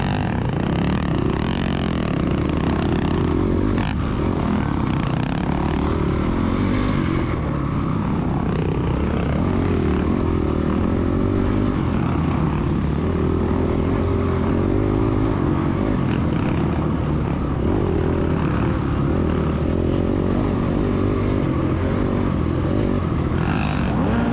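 A dirt bike engine revs hard throughout a woods race, the rider constantly flipping the throttle so the loud, close motor rises and falls in pitch with brief drops and surges, and no voices are heard.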